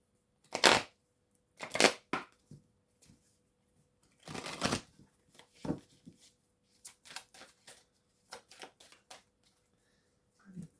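Oracle cards shuffled by hand in repeated bursts of riffling and flicking, with quiet gaps between, close and fairly soft, no talking.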